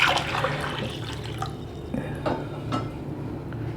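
Room-temperature water is poured into a jar to fill it for a black carrot kanji recipe, a steady splashing with a few soft clinks of glass or utensils throughout.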